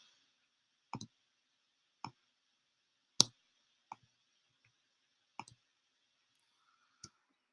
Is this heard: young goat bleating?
no